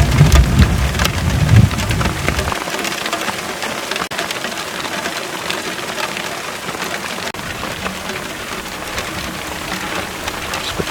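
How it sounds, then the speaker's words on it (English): Steady, dense rainfall patters on surfaces in the Central Kalahari, with a deep rolling rumble of thunder at the start before the downpour continues evenly. "Raining in the Kalahari."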